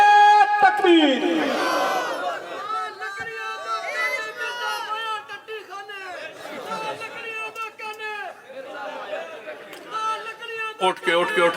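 A large religious gathering shouts the Takbeer slogan in unison, loud and close, a massed call-and-response chant of many voices that rises and falls in repeated bursts for the whole stretch, heavy with crowd noise.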